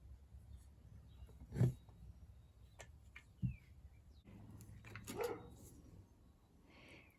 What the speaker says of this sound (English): you can hear my dogs in the background occasionally barking